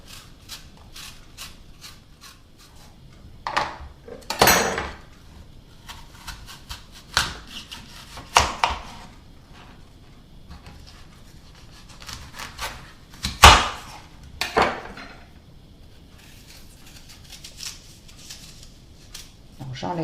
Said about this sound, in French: Alors maintenant, je vais peler ma pomme.